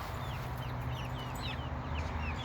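Chickens clucking in a backyard chicken yard, with soft, scattered short calls over a steady low background rumble.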